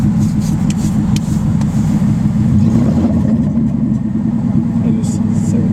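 A car engine with no exhaust fitted roars loudly and continuously, a deep raw rumbling drone with slight revving swells, while people talk over it.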